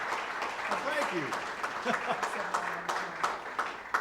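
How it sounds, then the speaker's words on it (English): Lecture audience clapping to welcome a speaker before his talk on Detroit in the Roaring '20s, a moderate wash of hands mixed with the speaker's voice thanking them over it. "everybody, our applause for Joel and Boomtown"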